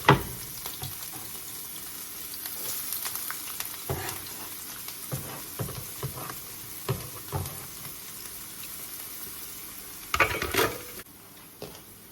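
Onions frying in a pan, a steady soft sizzle with scattered stirring scrapes and clinks, one louder burst near the end.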